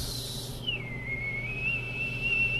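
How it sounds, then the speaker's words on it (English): A tea kettle whistles with a steady, sustained tone that holds on alone over a low background hum. "Thank you, Whistling Tea Kettle."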